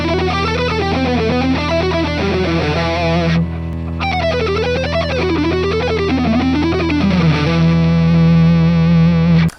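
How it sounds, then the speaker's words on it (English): An electric guitar with heavy distortion plays a rapid string-skipping, speed-picked lick. The notes come in fast, even runs that leap up and down in pitch, loud and continuous, with no voices. "if you practice string skipping licks like this one I'm about to show you"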